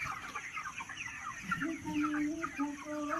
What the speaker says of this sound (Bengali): তো মুরগি দেখো অনেকটাই বড় হয়ে গেছে,